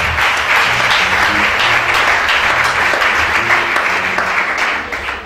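An audience at a church gathering applauds in praise of God, dense and loud sustained clapping that holds steady for several seconds and then starts to thin out near the end.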